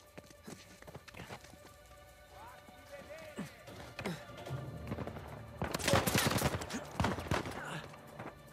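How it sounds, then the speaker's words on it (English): Gunfire in the video game Uncharted 4: A Thief's End, bursts of shots clustering toward the middle and end amid game effects, with voices talking throughout. "I'm being shot at."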